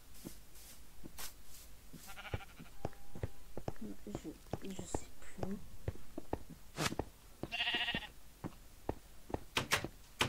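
Sheep bleats from the Minecraft video game, two short game bleats heard amid clicks and block sounds while a person talks quietly over them.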